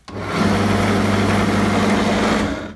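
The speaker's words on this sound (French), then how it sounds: "Petit moteur de machine à laver, je crois, l'ancien modèle." A small old washing machine motor, used on a homemade table saw, spins up quickly and runs with a steady, buzzing hum for a few seconds, close by and fairly loud.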